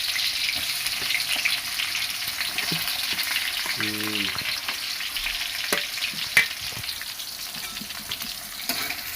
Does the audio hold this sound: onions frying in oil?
yes